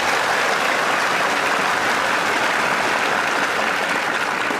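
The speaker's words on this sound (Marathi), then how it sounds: "आता फक्त पोरांनी टाळ्या होता." Boys in an audience clap hard and continuously, a dense, uniform crackle of many hands close by, sustained at full volume throughout.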